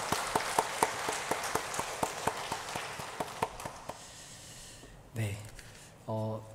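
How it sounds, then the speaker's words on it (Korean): A church congregation claps in a steady, even rhythm to honour the Eunpyeong and Charis worship teams, the beats fading out after about four seconds, followed by a couple of short tonal sounds. "박수하겠습니다"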